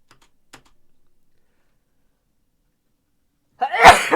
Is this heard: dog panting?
no